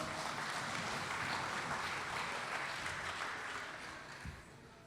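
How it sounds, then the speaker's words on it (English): Audience at an Onam community celebration applauding in a dense, even wash of distant clapping that holds steady and then slowly tapers off. "a big round of applause to everybody who served us"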